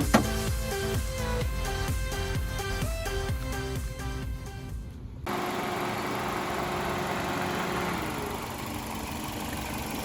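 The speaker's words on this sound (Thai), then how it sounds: "เครื่องยนต์สตาร์ทอยู่นะครับ เครื่องแห้งๆครับ เครื่องเดินนิ่งๆเลยครับ รอบเดินเบา" A 2006 Toyota Vios S engine idles steadily with an even mechanical hum, which shifts partway through to a rougher, noisier rumble that continues to the end.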